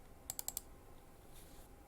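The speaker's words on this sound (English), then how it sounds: "let's just go ahead and open up this scene by double-clicking it" A computer mouse double-clicks twice in quick succession to open a Unity scene, four crisp faint clicks close together, then quiet room tone.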